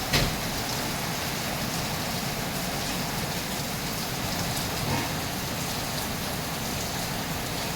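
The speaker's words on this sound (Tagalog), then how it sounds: "malakas pa rin ang ulan." Heavy rain pouring steadily in Quezon City, heard from inside a small shop, a dense continuous hiss of drops drumming on surfaces with no break.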